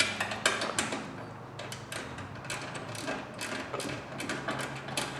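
A ratchet wrench loosens bolts on an EZGO TXT golf cart with quick, repeated clicking. The clicks come in uneven bursts, up close and moderately loud, with faint mechanical clatter in between and no voices.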